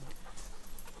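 A dog pants on a woodland trail: quick, rhythmic breaths, faint and close, over about a second of quiet outdoor background.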